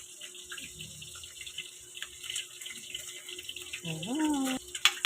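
A kitchen sink tap runs while dishes are washed, giving a steady, close stream of water with light clinks and a brief rising squeal near the end.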